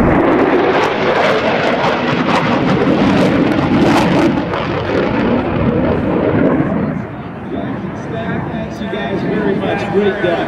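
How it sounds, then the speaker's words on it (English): A vintage Corsair and a Super Hornet fly past at an air show, a loud, rolling engine roar that swells and then fades, with an announcer's voice over it. "get your cameras ready as we see the vintage Corsair and the Super Hornet"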